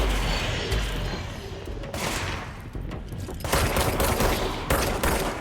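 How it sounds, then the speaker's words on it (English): Enemy gunfire rattles in the video game Control, with dense overlapping bursts and sustained volleys of automatic fire, fairly loud and continuous throughout, with no talking. "Hey, who's shooting?"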